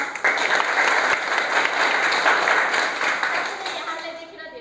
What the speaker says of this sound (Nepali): म सम्पूर्णको तालीले स्वागत गर्न चाहन्छु